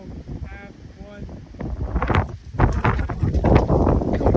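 Wind buffeting a microphone outdoors, with loud low rumbling gusts that swell and build. Brief faint talk and other sounds come before the gusts.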